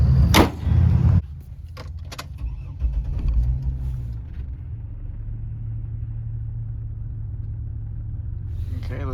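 A Chevrolet TrailBlazer with a fan clutch problem cruises down a street, giving a steady low engine and road rumble heard from inside, after a brief louder burst at the start.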